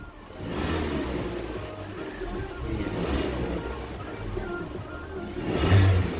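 Suzuki Ertiga engine fitted with an IForce unit revs steadily under a broad, continuous rumble, swelling again near the end, with no clear talk over it.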